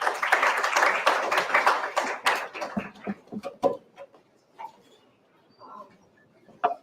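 An audience at an event in India applauds a presenter's introduction, a burst of crowd clapping that tapers off over a few seconds into scattered individual claps and near silence.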